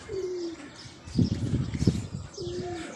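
Pigeons coo repeatedly in low, throaty phrases close by, with a busy background of rustling and faint chirps and no speech.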